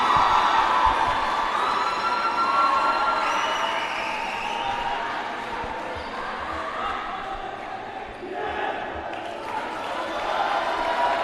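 A crowd fills a sports complex at a men's basketball division final, with a broad, steady roar of voices, scattered shouts and whoops, and faint ball bounces all through.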